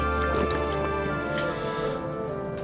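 A character sips water in the video game Rust: soft liquid drips and squishy gulping sounds play quietly over a steady humming backdrop.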